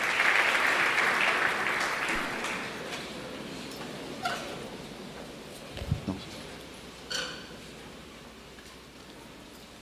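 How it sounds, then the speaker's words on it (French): Church congregation applauding, a broad wash of clapping that is loudest at the start and gradually thins and fades, with a few scattered knocks and a voice or two beneath it. "Acclamons le Seigneur."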